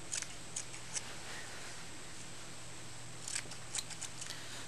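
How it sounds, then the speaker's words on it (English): Quiet crisp snips of scissors trimming a dog's fur around the ears come in small clusters over soft background hiss, close by and without any talking. "they quite often don't like the sound of the scissors."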